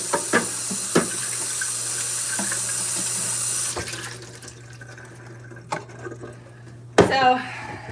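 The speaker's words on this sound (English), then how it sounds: "just rinsed out his bottle" Water from a running tap splashes into a sink as a bottle is rinsed, a steady close hiss that cuts off partway through, followed by a few clinks and handling knocks.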